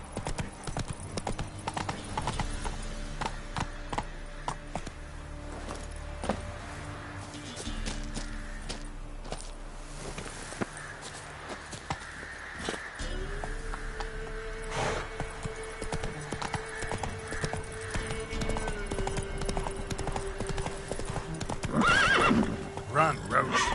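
Roach the horse from the Witcher 3 video game galloping, with steady rhythmic hoofbeats, occasional whinnies, and background game music, heard clearly on its own for an extended stretch.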